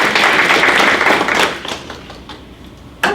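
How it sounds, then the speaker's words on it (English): An audience at a board meeting applauding loudly, dense clapping that tapers off to scattered claps, then a sudden sharp thump near the end. "let's give him a round of applause"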